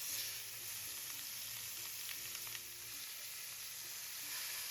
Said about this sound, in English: add a good drizzle of oil, then add the ribs